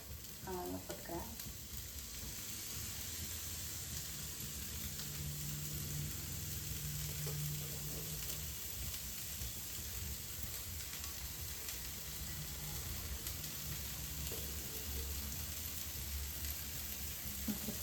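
Tofu and capsicum sizzle steadily in a frying pan, a continuous close crackle of frying with light stirring and faint speech at times.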